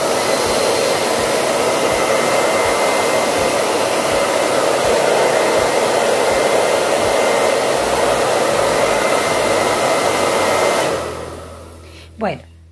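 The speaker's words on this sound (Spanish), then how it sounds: "le voy a dar un toquecito con el secador, pero lo podemos dejar que se seque libremente" A hair dryer blows loud and steady close by to dry a liquid craquelure paint medium, then switches off near the end, leaving a faint click.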